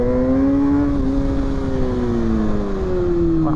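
A 2020 Kawasaki ZX6R motorcycle drones steadily at speed, its engine tone sliding slowly downward under loud wind rush, with no voices.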